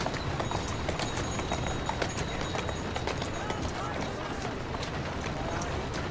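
Horse hooves clip-clop at a quick running pace in Assassin's Creed Syndicate, a dense, steady patter of hoofbeats on a hard street, with a voice talking over it.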